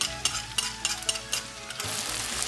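Roughly chopped vegetables for Sicilian caponata sizzle in a pan with a steady hiss, punctuated by quick clinks and scrapes of stirring, close by.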